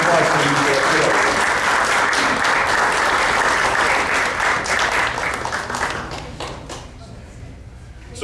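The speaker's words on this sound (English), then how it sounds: "One more round of applause for you." A school district governing board meeting audience claps loudly and steadily for several seconds, then the clapping thins and fades into quieter scattered claps near the end.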